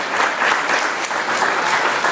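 Audience applause from a crowd, steady dense clapping that fills the whole short stretch at close range with no voices on top.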